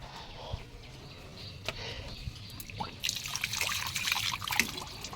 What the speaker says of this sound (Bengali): আগে হাত ধুই।